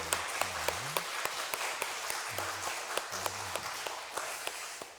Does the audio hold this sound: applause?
yes